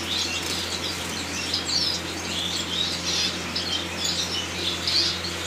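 Gouldian finches in a breeding cage give rapid, bright chirps and squawks with bursts of wing flapping, busy and close over a constant low hum, with no one speaking.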